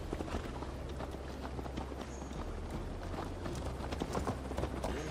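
Horse hooves pound in a steady gallop while riding in Assassin's Creed Valhalla, a continuous rhythmic clatter at moderate distance over a low ambient rumble, with no talk.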